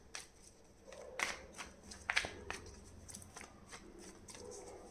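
Quiet riffle and slap of tarot cards being shuffled by hand, a few sharper snaps among soft shuffling, no talking.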